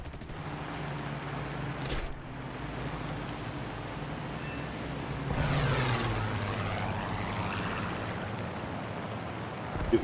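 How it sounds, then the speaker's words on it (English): Lancaster bomber in War Thunder flying close with a steady propeller engine drone, joined midway by bursts of rapid gunfire and a rising whine from other aircraft, with continuous loud combat noise throughout. "Oh, it's a Lancaster, wow."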